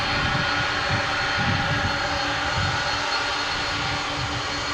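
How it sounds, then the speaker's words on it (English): A 1992 McDonnell Douglas MD-11 at DFW International Airport gives off a loud, steady jet engine roar with a broad rumbling rush that holds for several seconds, with no talking. "The MD-11."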